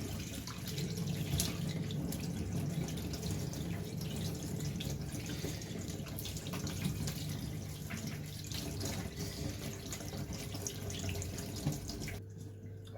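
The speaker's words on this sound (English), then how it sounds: "Start off by washing the lamb leg. You need to wash it thoroughly" A lamb leg is rinsed under a steadily running kitchen tap, with a continuous close splash and gurgle of water into the sink for the whole stretch, no talking, ending abruptly near the close.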